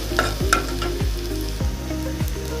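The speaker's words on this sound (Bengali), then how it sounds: "এখন আমি পেঁয়াজ রসুন এবং জিরেটা ভালো করে ভেজে দিচ্ছি।" Onion, garlic and cumin fry in oil with a close, bright sizzle, broken by a steady rhythm of spatula scrapes and stirring knocks about every half second.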